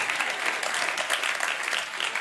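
Sustained applause from a comedy club audience after a stand-up joke, a dense, even wash of many hands clapping at steady loudness throughout.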